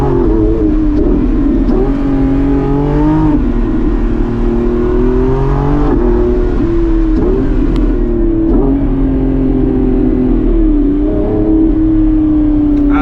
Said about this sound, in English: that is somehow this metallic, high revving Porsche sound, which is great